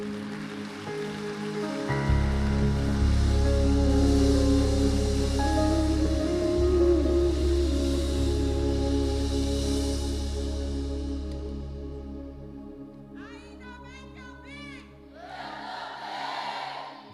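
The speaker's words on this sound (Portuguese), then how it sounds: "Uma salva de palmas ao Senhor." A church congregation applauds for the Lord at a live service, a broad, steady wash of clapping that swells and holds over a low sustained musical drone, fading toward the end as a voice begins speaking.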